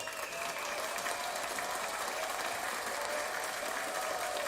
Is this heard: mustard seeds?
no